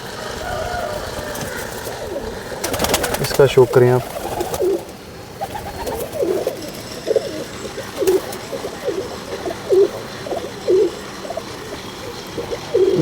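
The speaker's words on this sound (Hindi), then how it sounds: "चलें जी, एक और कबूतर का शो करवाते हैं।" Pigeons coo in short repeated bursts during a pigeon show in Jammu and Kashmir, close by and fairly loud, with people talking over and between the calls and a brief flutter or clatter early on.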